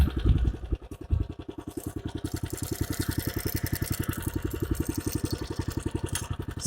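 A tractor engine drives a rotary tiller while cultivating soil, heard from onboard as a loud, steady rapid chugging with a clattering, pulsing rhythm that runs throughout the clip without a break.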